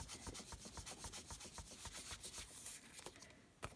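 Dry, rhythmic rubbing strokes scrub over paper with ink in a wax resist art technique, faint and close, repeating steadily without any talk.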